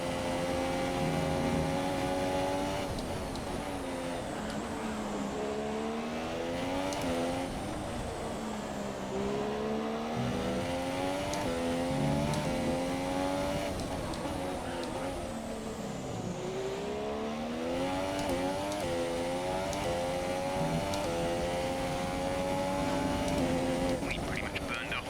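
A Formula 1 race car engine in the F1 2017 video game whines continuously and loud, its pitch sweeping up and down through repeated accelerations, gear changes and lifts over the full stretch.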